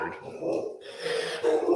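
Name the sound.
dog barking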